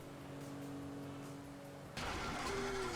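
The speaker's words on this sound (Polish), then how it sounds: "no i w pewnym momencie nam się zaczyna psuć ten samochód" A car engine in GTA 5 hums steadily with a tonal whine, then abruptly shifts to a harsher, rougher, louder rumble as the vehicle begins breaking down.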